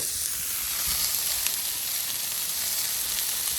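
New York strip steaks and potatoes sizzle on a Blackstone griddle, a steady, close, hissing fry that holds without a break and has no talking over it.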